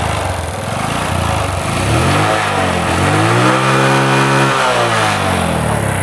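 Bajaj CT 100 motorcycle, 100cc, idling then revving close by; the engine note climbs steadily and holds high, loud and continuous with no talking.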